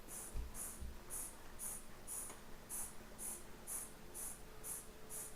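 A quiet, steady rhythmic hissing pulse repeats about twice a second as a suction pump draws brake fluid and air from a Ducati front brake, with a faint low thud near the start.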